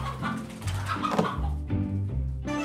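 A live chicken clucks steadily up close, in a staged scene about sending animals by rocket mail. The bursts of clucking repeat throughout, with no talk over them.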